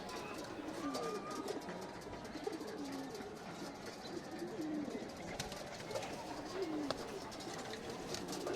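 Several pigeons coo in overlapping, rolling phrases against steady outdoor noise, the calls recurring every second or so at moderate distance.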